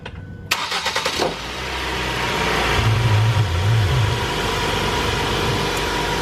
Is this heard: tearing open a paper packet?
no